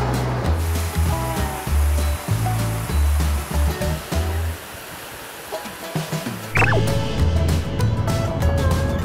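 A mountain stream, the Zako River in autumn near Shiga Highlands in Nagano, rushes steadily and loudly as a continuous broadband wash, with a melodic musical backing running underneath throughout.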